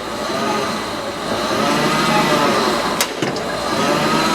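A Mitsubishi lift truck engine runs steadily and loudly at close range during a clutch test, a constant mid-pitched drone with a couple of brief sharp clicks near the end.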